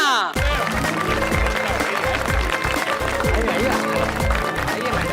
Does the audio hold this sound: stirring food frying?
no